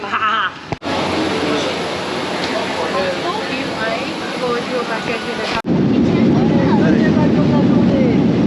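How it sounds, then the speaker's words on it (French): Airliner accelerating down the runway for takeoff on a family flight to Thailand, a steady loud broadband cabin roar that swells sharply louder near the end as thrust builds. "Ça y est, on décolle."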